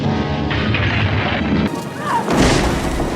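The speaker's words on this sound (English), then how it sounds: "Barbara is attacked, crashing her car." A car crash in a horror movie, a Night of the Living Dead remake, arrives as a loud, dense rumbling crash with wind-like noise, dropping briefly midway and then swelling again, with no talk.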